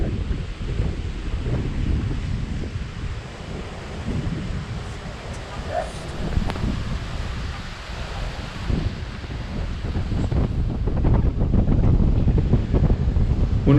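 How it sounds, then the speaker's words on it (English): Strong wind blows on the windward side of Little Harbor in the Abacos, buffeting the microphone with a constant low roar and gusts over what sounds like surf, with faint voices underneath. "there was some inclement weather and the winds were blowing"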